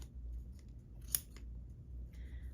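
A single crisp snip of scissors cutting through yarn, close and clear, with a faint higher whine afterward over low background hum.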